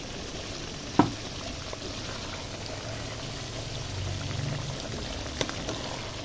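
Meat simmers with cumin powder in a pot, a quiet bubbling and low sizzle with a sharp clink of a utensil near the start and a few soft knocks later.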